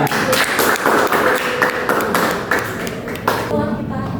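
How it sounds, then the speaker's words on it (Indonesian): A classroom of first-grade students claps for two classmates after their presentation, a burst of uneven, close hand claps with scattered taps and small voices, fading into quieter chatter near the end. "Tepuk tangan untuk Mas Dasi dan Mas Erlan."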